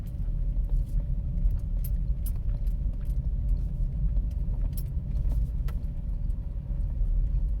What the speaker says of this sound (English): That knocking you hear is my keys.